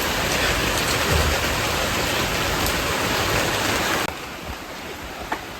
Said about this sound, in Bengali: এই যে বৃষ্টি নামে পড়ছে।